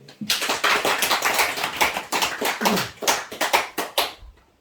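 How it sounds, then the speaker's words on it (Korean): Church congregation applauding after a baptism at an Easter Sunday service, a dense burst of many hands clapping close by, irregular and sustained for several seconds before trailing off abruptly. "박수"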